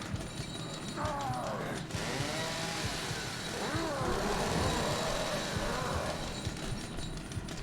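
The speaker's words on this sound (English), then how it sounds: "Is he really having a tantrum with a chainsaw?" A chainsaw revs and whines in The Evil Within, rising and falling in pitch as an enemy swings it around a room, with mechanical clatter mixed in at moderate loudness.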